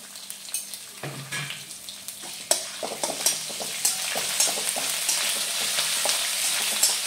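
Curry leaves, ginger, garlic and green chillies fry in a pan for samosa filling, with a bright steady sizzle and rhythmic scraping stirs of a spoon, close and without talk.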